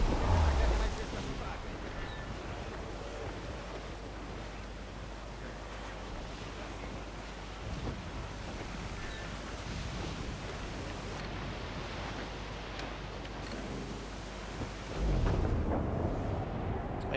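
Storm at sea in Assassin's Creed 4 Black Flag: a steady roar of wind and crashing waves surging around a ship, swelling louder near the end, with someone speaking over it.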